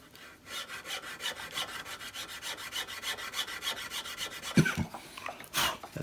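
Wood is sanded by hand with sandpaper in quick, rhythmic back-and-forth rasping strokes, close and fairly soft, ending with a few scattered knocks and scrapes.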